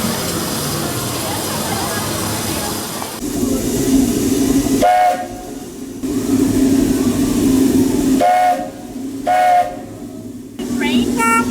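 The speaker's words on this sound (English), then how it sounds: "Train, you can hear it." A Buckeye three-chime steam whistle sounds on a train, giving several loud blasts of varying length, some short and one held, over a hissing rail background with crowd noise between.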